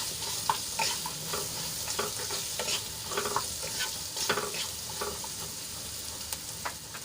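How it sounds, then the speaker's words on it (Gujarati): Onions frying in a pan with salt give a steady, close crackling sizzle, punctuated by irregular scraping stirs and soft clatters of a spoon against the pan, with no one speaking. "હવે ડુંગળીને આપણે થોડીક સોફ્ટ થાય ત્યાં સુધી થવા દઈશું"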